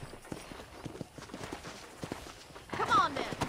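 Horse hooves clop at a steady riding pace in the video game Red Dead Redemption, heard close and continuous, with a voice speaking near the end.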